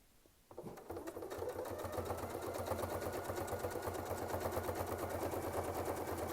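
A sewing machine stitches steadily along a Westalee quilting ruler template, its fast even needle rhythm starting abruptly after a brief quiet moment and running loud and unbroken.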